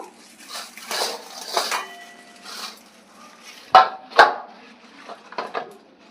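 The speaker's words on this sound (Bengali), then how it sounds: "বন্ধুরা সবজিগুলো তো কাটা হয়ে গেল এখন আমি মাছগুলো ধুয়ে নেব" Rohu fish pieces are washed in a bowl, with intermittent sloshing and splashing water, soft rattles and two sharp knocks of metal against the bowl, close by with no talking.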